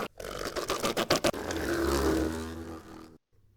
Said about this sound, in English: take the different samples like that and then just simply pitch it down in Reaper